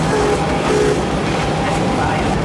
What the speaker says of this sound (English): it's not a trip to Worlds of Fun without riding the Worlds of Fun Railroad